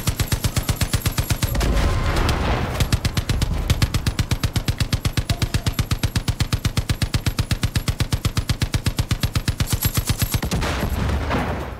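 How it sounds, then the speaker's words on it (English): A mounted machine gun in the video game Far Cry 5 fires a long, loud, steady burst of rapid rounds for nearly twelve seconds, with only brief pauses between strings of shots. "it's just probably worth sitting on this gun waiting for him to rock up."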